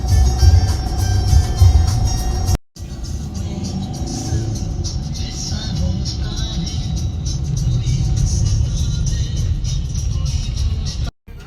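Continuous heavy road traffic, with car engines droning and revving close by. Faint voices sit underneath, and the sound cuts out briefly twice.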